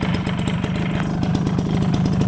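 A Suzuki RC100 motorcycle engine runs close by with a steady, throbbing two-stroke rhythm and light blips of revving throughout, with no voices.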